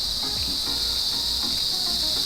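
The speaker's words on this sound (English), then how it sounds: "these grasshoppers are making some serious noise today" Grasshoppers chirp steadily in high grass on farmland, a dense, unbroken high-pitched drone that stays loud and even from start to finish, with faint low rumbles underneath.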